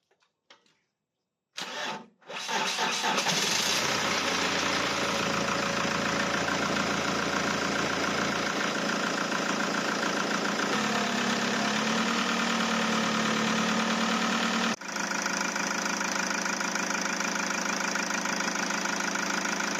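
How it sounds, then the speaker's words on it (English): A car engine starts and then idles steadily and loud for most of the stretch, following an intake and throttle body soot cleanup with the turbo hose refitted; the pitch shifts slightly near the end. "then we can try and start the engine."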